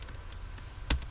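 A short burst of computer keyboard typing, a handful of light, close key taps with one sharper keystroke near the end, quiet and without talk.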